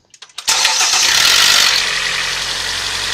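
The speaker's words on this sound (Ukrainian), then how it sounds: "Значить, при заводці йде одноразовий тріск, стук." A 2012 Hyundai Elantra 1.8 petrol engine starts after a few quick cranking pulses, catching with a single sharp burst, then settling into a loud, close idle.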